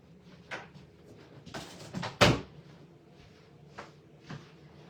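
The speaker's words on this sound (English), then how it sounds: "I'm going to shut my door because I forgot to do that." A door shut indoors in a home craft room, heard as one sharp loud thud amid soft shuffling and handling of items, with a few lighter knocks after.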